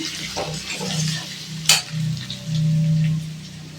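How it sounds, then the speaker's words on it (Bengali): Pointed gourd frying in a pan gives a steady close sizzle with faint stirring scrapes and one sharp clink partway through. "পটলটা ভেজে নিই, ভেজে নিয়ে"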